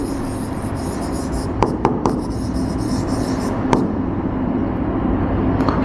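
Pen writing on paper during a math lesson, a steady scratchy rubbing with a few sharp taps, close and continuous against a constant background noise.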